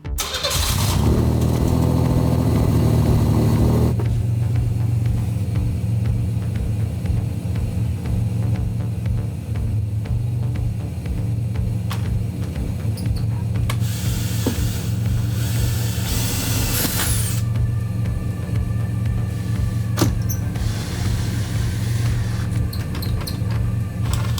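Stock V6 engine of a Pontiac Fiero fitted with a nitrous kit, heard cranking and starting, then idling with a loud, steady, even rumble that runs on at length, close by.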